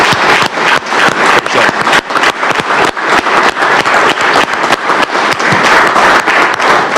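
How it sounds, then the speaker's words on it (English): Applause in the Alabama Senate chamber, dense and sustained clapping from many hands, loud and continuous for several seconds. "Let's give him a huge another round of applause."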